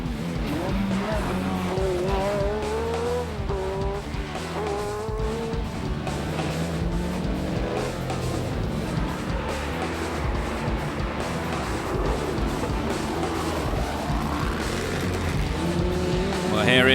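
An Alpine rally car at the 2004 Tour Auto, pushing hard through the 7.2-kilometre Puisseguin Saint-Emilion special stage: loud, close engine roar rising and falling through gear changes, with tyre squeal and skids, continuous throughout.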